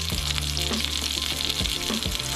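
Venison shanks seasoned with pepper and pink salt browning in hot oil, a steady loud sizzle with faint bumps and scrapes as pieces are turned.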